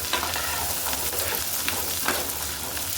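Garlic cloves frying in hot oil for a garlic pickle, a loud, steady sizzle with faint stirring scrapes, close up and without talk.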